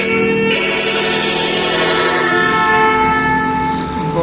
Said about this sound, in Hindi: बहुत पावरफुल हॉर्न था।